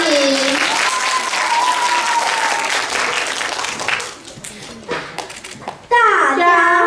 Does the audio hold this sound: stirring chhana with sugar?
no